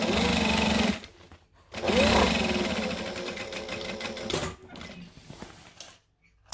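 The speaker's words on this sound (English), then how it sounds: "So I'm going to stitch all the way across" Sewing machine stitching straight across the edges of a fabric pouch, loud close motor whirring in two long bursts with short pauses between.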